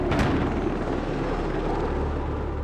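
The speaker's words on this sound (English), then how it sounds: "earned its place as the most dominant attack helicopter of the modern era" An AH-64 Apache attack helicopter gives a loud, dense rotor and engine roar with a rapid thumping texture, steady and close for a few seconds with no voices.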